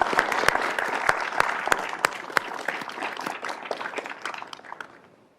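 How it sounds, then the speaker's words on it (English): Audience applause at a Douglas County commissioners' business meeting: a modest room of people clapping, with distinct individual claps standing out, sustained for several seconds and then tapering off to silence. "So once again, I just say give Larry Noble a round of applause"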